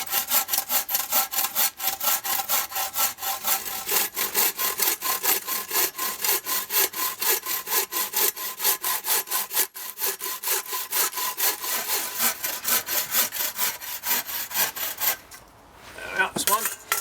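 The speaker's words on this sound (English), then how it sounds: "I'm just sawing off some billets now so that we can get them roughly to leg" Hand saw cutting billets from a split log to rough leg length for Windsor chair legs, steady rhythmic back-and-forth rasping strokes close up and loud, pausing briefly near the end.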